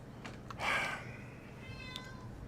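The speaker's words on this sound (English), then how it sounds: "I have a cat that only does this during live streams." A house cat meows once, faint and drawn out, followed by a softer, higher cry against a quiet room background.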